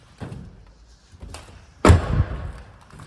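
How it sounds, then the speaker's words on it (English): Mini Cooper tailgate being opened, with a few soft clicks and thuds followed by a louder solid thump of the hatch, close and clear with no talk. "As we open the tailgate,"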